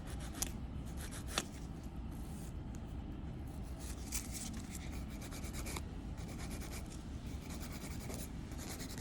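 A 100/180 grit nail file blends an artificial nail tip with steady, rapid back-and-forth rasping. The strokes are close and continuous throughout, with no talk.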